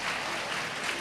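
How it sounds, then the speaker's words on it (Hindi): Brief burst of dense, steady clapping from a crowd at a Hindu religious discourse, loud and continuous for about a second. "बहुएं, ताली तो बजा दो"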